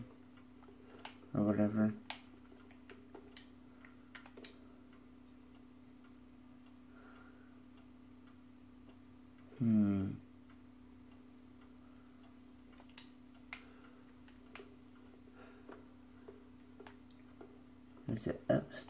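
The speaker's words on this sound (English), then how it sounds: "Clock pendulum. Pendulum." A clock pendulum in the video game Resident Evil, a steady faint ticking throughout over a constant low hum, with someone talking briefly in a few places.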